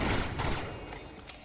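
Gunfire in the video game Uncharted 2: Among Thieves, a short dense burst of shots right at the start that tails off into echoing noise over about a second.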